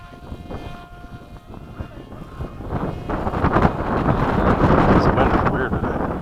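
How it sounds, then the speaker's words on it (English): Gusty outdoor wind buffets the microphone with a rough, low roar that builds steadily louder toward the end, while people talk nearby at a combat flying event. "This wind is weird today."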